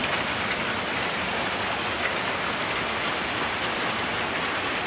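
Sudden heavy rain pouring down outdoors over a string bean farm, a dense, steady roar of broadband hiss that stays loud and unbroken throughout, with no voices.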